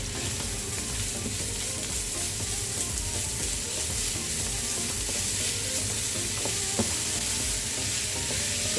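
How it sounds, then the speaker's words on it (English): Four mini potatoes with green onion frying in a pan give a continuous close sizzle with a few light scrapes of stirring, and no one talks. "So I'll just fry it up"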